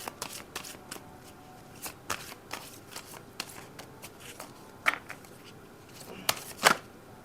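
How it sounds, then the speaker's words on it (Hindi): Tarot cards being shuffled by hand, quiet close riffles and soft slaps in irregular bursts with a few sharper snaps near the end. "सो डेफिनेटली मैं और शफल करती हूँ।"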